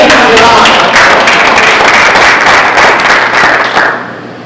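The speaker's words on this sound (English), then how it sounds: "Give her a round of applause." A crowd applauds with dense, continuous clapping that fades out near the end.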